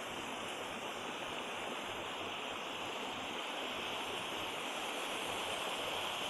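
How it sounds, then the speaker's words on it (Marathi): A shallow, low-water stream running through forest near a waterfall cave, a continuous broadband rush of flowing water, steady and fairly soft with no voices. "असा ओढा, ह्या ओढ्याला आता कमी पाणी आहे"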